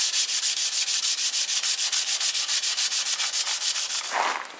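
Fine abrasive paper rubs back and forth across the back of an old cottage garden relic during cleaning, making quick, evenly rhythmic scratchy strokes, close and alone.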